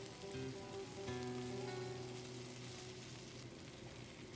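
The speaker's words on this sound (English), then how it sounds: "Now I'm adding our green beans. Give them a little stir around." Green beans stirred into a sizzling vegan paella pan, a faint, steady crackling sizzle with a low hum underneath, heard alone.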